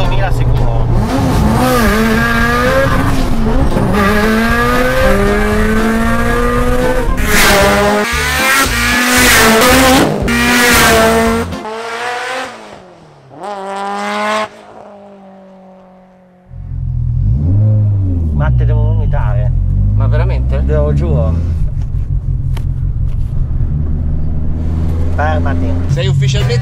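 A Subaru Impreza Spec C Type RA engine revs hard toward its limiter, rising harmonics climbing in loud sustained pulls, dropping off abruptly, then idling and blipping again nearby; voices are heard talking over parts of it.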